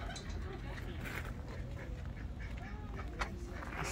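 Ducks being fed at an animal farm with a llama nearby quack close by and steadily, under people talking and general outdoor background noise.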